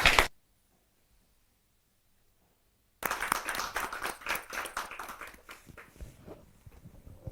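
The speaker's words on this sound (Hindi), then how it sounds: "जोरदार ताली के साथ स्वागत करें" Audience applause at a Hindi poetry gathering welcoming a poet: after a brief burst and about three seconds of silence, loud, dense clapping from a crowd erupts and continues steadily.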